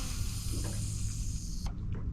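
A mini crossbow used for bowfishing fires a bolt tied to 40-pound fishing line, and the line whirs steadily off the reel in a continuous close hiss, with a few sharp clicks near the end.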